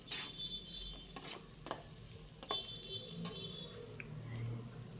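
Red chilli fries in oil in a pan and is stirred for a paneer masala curry: a faint, steady sizzle with scattered scraping and clinking strokes of a spoon against the pan.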